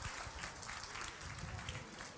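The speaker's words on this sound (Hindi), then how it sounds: "एक बार अध्यक्ष के लिए जोरदार तालियों से स्वागत।" An audience at a moral education session at a yoga camp claps in a brief, fairly faint burst of applause, with some murmuring alongside.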